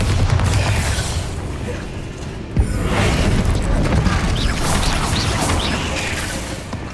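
Bombarda spell cast in Hogwarts Legacy, a dense booming blast with a sharp crack near the middle, set against a constant wash of game effects and rumble that carries on loudly throughout.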